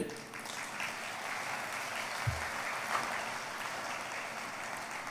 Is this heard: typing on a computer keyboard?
no